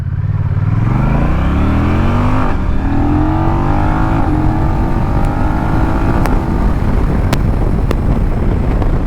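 A Honda Rebel 1100 motorcycle engine climbs through the gears with a quick shifter and no clutch, loud and close, each rising drone cut by a brief shift, with heavy wind rush throughout.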